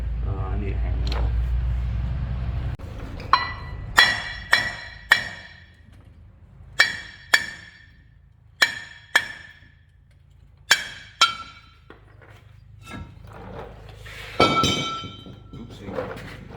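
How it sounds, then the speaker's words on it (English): Sharp metallic hammer strikes ring out in irregular pairs and bursts, each blow clanging then fading, after an opening low engine rumble. "I need a hammer"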